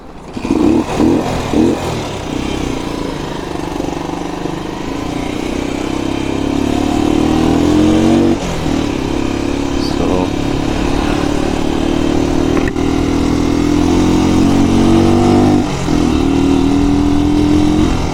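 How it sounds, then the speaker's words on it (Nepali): A Chinese four-stroke motorcycle engine starts with a few sputtering pops, then settles into a loud, steady running drone with repeated revs rising and falling, close up and with no talking. "सो फेरि स्टार्ट गर्छौँ"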